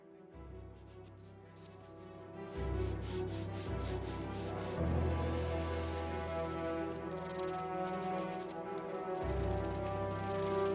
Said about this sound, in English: let's start off with some sanding